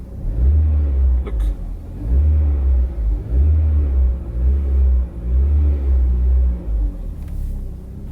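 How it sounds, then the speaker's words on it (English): A Mitsubishi Lancer Evolution X engine revs repeatedly, about six throttle bursts rising and falling in a deep rumbling rhythm, close and loud. "I'm going to push the throttle pedal"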